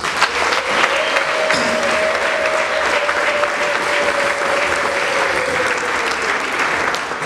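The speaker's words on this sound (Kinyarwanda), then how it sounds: "Umuyongera amashyi cyane menshi" A church congregation in a Rwandan parish applauds loudly and continuously during the head pastor's year-end address, a dense sustained clapping from a large crowd with a faint held tone running underneath.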